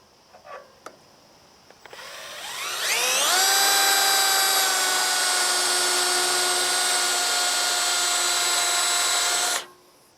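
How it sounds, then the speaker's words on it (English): A power drill spins up with a rising whine, drilling a pilot hole in metal, then runs at a steady high-pitched drone for several seconds before stopping abruptly. "I'm gonna drill a pilot hole through here first"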